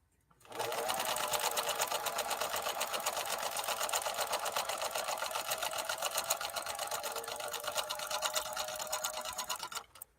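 A 1957 Phoenix 283F sewing machine, German engineered by Adler, runs a scallop stitch pattern in one continuous fast whirring hum with a rapid mechanical clatter, heard up close and alone for about nine seconds.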